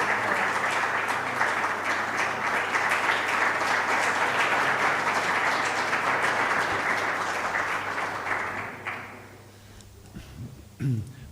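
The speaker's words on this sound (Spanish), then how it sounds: "voy a pediros un aplauso para ella" An audience at an annual conference applauds a speaker, a steady, full wash of clapping that lasts several seconds before fading out, followed by a few scattered sounds.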